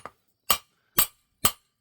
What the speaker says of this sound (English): I'm doing a less aggressive tilt of my hammer.